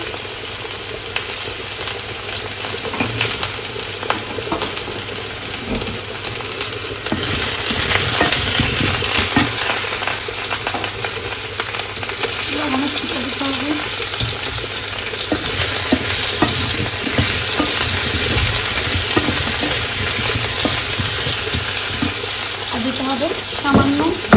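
Potatoes sizzle steadily in a hot pan for a long stretch, with occasional stirring and scraping sounds and brief speech in the background.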